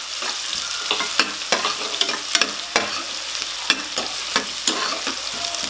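Onions sautéing in a pan for a vegetable salna, a continuous close sizzle punctuated by regular sharp scrapes and clicks of a spatula stirring them, with no voices.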